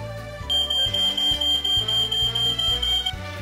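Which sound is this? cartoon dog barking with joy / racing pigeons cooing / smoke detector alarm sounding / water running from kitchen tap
smoke detector alarm sounding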